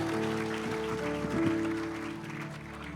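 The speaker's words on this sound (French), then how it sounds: "on peut les applaudir de manière chaleureuse" A church congregation at a bilingual service gives warm applause for Sunday school children, a soft, steady wash of many hands clapping under a faint sustained hum.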